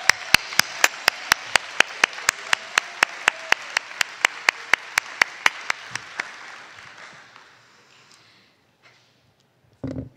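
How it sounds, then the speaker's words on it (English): An audience at a nursing graduation ceremony applauds in a hall, with a sharp rhythmic clap near the microphone over broad applause that fades after about eight seconds, followed by a brief knock. "let's give them a rousing hand of applause."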